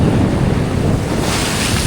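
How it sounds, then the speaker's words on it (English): Rough sea waves break against the rocks of a shoreline fishing spot: a loud, continuous roar of surf and churning water, heavily mixed with buffeting wind noise on the microphone, with no voices. "You see the water is getting a bit more aggressive."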